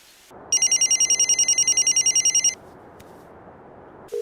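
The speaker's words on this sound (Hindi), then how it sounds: "ये लीजिए, रिंग जा रही है।" A telephone rings on an outgoing call: rapid electronic ring pulses repeat steadily for about two seconds, then stop and leave a quiet room with low background hiss.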